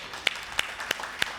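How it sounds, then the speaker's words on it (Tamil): A congregation claps during a church service, four evenly spaced sharp claps in a slow steady rhythm, moderately close with no talking. "கைதட்டு பார்க்கலாம்."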